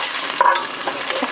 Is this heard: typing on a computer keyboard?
no